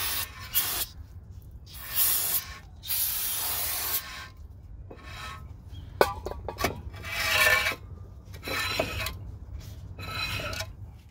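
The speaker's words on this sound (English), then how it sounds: "one last spritz of brake clean for good measure" Brake cleaner sprays onto the front brake of a Jeep ZJ in several short hissing bursts, close and loud, separated by quiet gaps and a few small metallic clinks.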